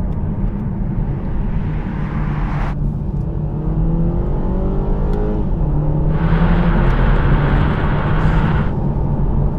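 Toyota GR Supra with a 2-litre four-cylinder engine revving loudly close up, its tone rising and falling through several gear changes under acceleration, with a strong low drone and rising harmonic sweeps.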